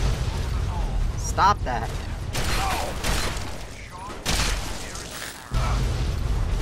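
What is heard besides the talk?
explosions in the video game Fallout 3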